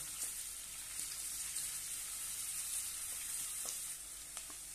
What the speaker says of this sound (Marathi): एक बारीक असा कांदा कट करून घेतलेला आहे तो घालूया। आणि छानपैकी परतून घेऊया।